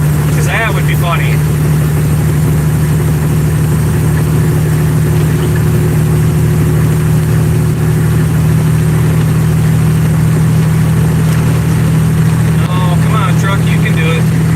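Loud, steady diesel drone of an idling truck with a constant low hum that fills the whole stretch and never lets up.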